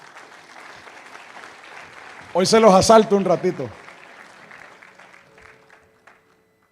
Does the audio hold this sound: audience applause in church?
yes